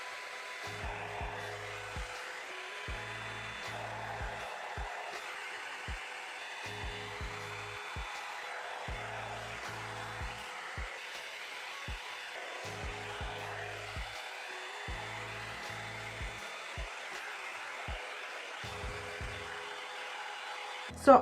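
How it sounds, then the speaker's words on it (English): A root hair dryer blows steadily and continuously at close range on hair, its airy whoosh constant, with faint rhythmic low thumps underneath. "So I dried this whole side with the root dryer."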